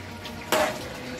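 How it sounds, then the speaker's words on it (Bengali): A lid lifts off a pot of simmering curry of katla fish head and taro stolons, giving one sharp, close metallic clank followed by a short fading hiss. "বন্ধুরা, এবার খুলছি ঢাকাটা"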